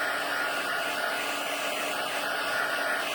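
A heat tool blows steadily to dry freshly stamped ink, making a continuous loud whooshing hiss with no breaks and no voices.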